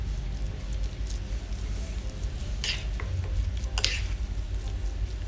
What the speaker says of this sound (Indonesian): Diaduk lagi sampai semuanya rata.